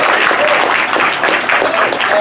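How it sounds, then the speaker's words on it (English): A film festival audience at the 35th Reeling LGBT Film Festival in Chicago applauds a world premiere screening with a dense, steady wash of clapping from many hands that holds evenly throughout. "We applaud like that."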